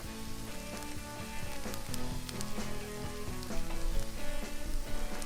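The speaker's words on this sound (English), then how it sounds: "We are frying this paneer nice and golden brown" Batter-coated paneer pieces fry in hot oil with a dense, steady crackling sizzle, close and continuous, popping and spitting throughout with no voices.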